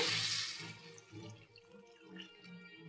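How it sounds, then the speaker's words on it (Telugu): Water is poured into a pot of lightly fried rice, a steady close splashing gush that settles into softer, uneven trickling. "ఇప్పుడు నీళ్ళు పోసుకుందాం."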